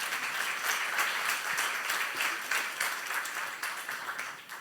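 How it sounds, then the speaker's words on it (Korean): A church congregation breaks into sustained clapping, a dense, even patter of many hands heard from a moderate distance, fading slightly toward the end. "박수며 하나님께 감사하십시오"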